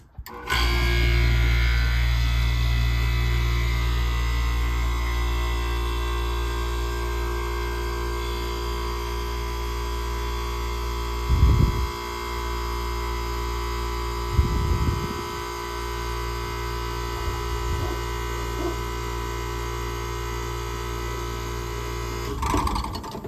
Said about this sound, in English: There's the compressor run for you.